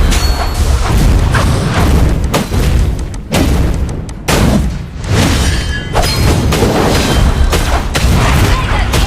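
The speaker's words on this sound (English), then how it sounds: "Your team destroyed a turret!" In the mobile game Mobile Legends: Bang Bang, a turret is destroyed amid a dense, loud barrage of booms, crashes and impact effects that run almost without pause, with brief dips between heavy hits.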